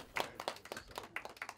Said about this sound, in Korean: 총리는 공연에 박수를 보내며 매우 즐거워했다